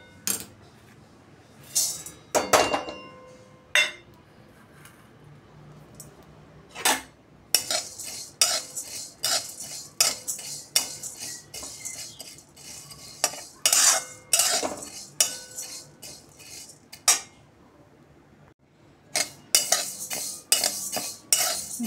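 A spoon stirs and scrapes moong dal as it roasts in a metal pan. The clinks and scrapes come in uneven bursts, close by and fairly loud, with short pauses between strokes and no talking.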